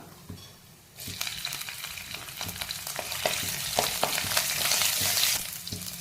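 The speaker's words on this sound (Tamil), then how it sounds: "இந்த சோம்பு பொரியட்டும்." Oil crackles and sizzles steadily as fennel seeds fry, starting quietly and then swelling into a dense, continuous spatter with small pops throughout.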